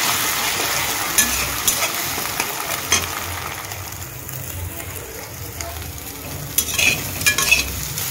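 Three eggs frying and scrambling in hot oil in a wok, a close steady sizzle broken by scraping stirs and a clatter of utensil knocks near the end, with no talking.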